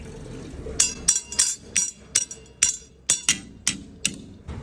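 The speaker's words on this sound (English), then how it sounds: "I hammered them in" A hammer drives big rivets during quick farm repairs for cattle: about a dozen sharp metallic strikes in a fairly steady rhythm, close and crisp, each ringing briefly.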